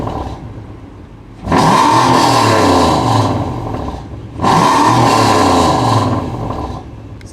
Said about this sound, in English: we're gonna rev up the engine 2 or 3 times.